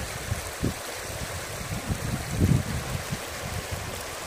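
A streamside current flows with a soft, steady wash and low gurgles, with occasional slightly louder splashes, quiet and even throughout, with no voices.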